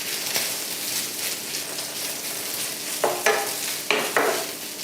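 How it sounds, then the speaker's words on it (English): Leftover pot roast beef warms in a pan, giving a steady soft sizzle throughout with a few louder crackling bursts near the end, close by and without any talk. "So a couple minutes to heat up your leftover pot roast."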